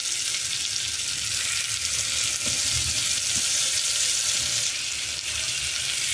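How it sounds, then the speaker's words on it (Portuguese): Garlic, onion and sausage fry in a pan, a steady close sizzle with soft crackling and occasional stirring scrapes running throughout, no voices. "ainda eu vou colocar, ó, o alho e a cebola. Aí vou deixar dourar aqui"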